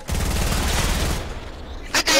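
Rocket launcher fire and explosive blasts in a Fortnite Battle Royale match, a dense rumbling burst that fades out, followed by a sharp short report, with a player's voice faintly present.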